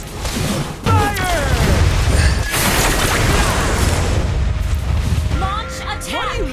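X-Borg fires a sustained attack in Mobile Legends: Bang Bang, a loud, dense blasting barrage that starts abruptly and rolls on continuously, with game character voices heard over it.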